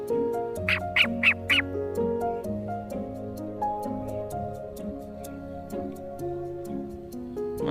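A call duck gives a short run of four close, loud nasal calls early on, followed by a quieter stretch of sustained tonal background sound, with no speech.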